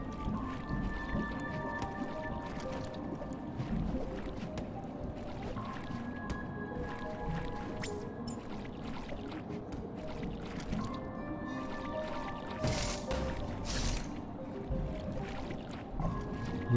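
A sperm-whale-like creature in Metroid Dread gives low, drawn-out calls over a faint watery ambience. The sound is quiet and continuous, with no talk.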